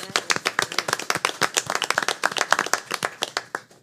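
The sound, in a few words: board meeting audience applause for students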